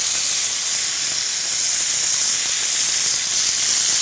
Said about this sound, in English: as soon as the butter has browned, then we can add the meat